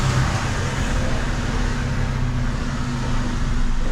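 A semi-trailer truck reverses and lines up to a marking, its engine giving a loud, steady low drone close by without a break.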